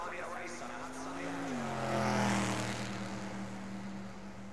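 Formula race cars idle and rev on the grid moments before the start of a race, with a steady engine drone whose pitch dips and then holds, swelling slightly louder midway under a broad crowd-like background.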